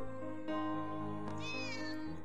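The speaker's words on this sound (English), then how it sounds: "A little cat!" A small cat in the flash game Friday lets out a brief meow, a short rising-and-falling cry over a steady tonal music backdrop.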